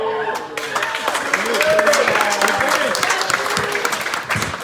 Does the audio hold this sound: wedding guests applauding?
yes